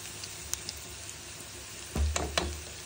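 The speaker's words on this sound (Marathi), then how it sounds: "आता आपण थोडासा लसूण टाकू आणि तो मिक्स करून घेऊ सगळीकडे" Garlic tossed into a pan and stirred through the frying mixture, a low steady sizzle with light taps, then a louder burst of scraping and stirring near the end.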